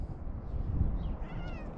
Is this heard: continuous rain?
no